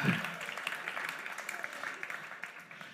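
A church audience applauds with a scattered, moderately loud patter of clapping that holds steady for a few seconds.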